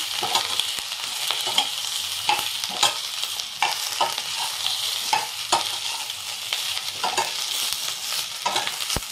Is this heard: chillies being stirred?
yes